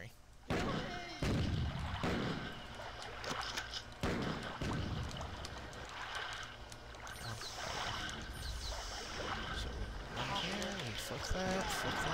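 Explosions and gunfire in the first-person shooter Marathon 2: Durandal, loud booming blasts and rattling shots layered over game noise, with a person talking over the action.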